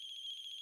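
A cell phone's electronic ringtone trills in a fast, even pulse in The Closing Shift, a Japanese café horror game, clear and unaccompanied.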